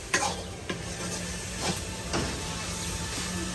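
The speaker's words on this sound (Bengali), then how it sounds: "হাতা পাতা শাক রান্না করলে এইভাবে বাগার দেওয়ার পরে এরকম গোতাইতে হয়" Leafy spinach greens are stirred and pressed against a hot frying pan after tempering, giving a soft steady sizzle broken by several distinct scraping strokes of the spoon.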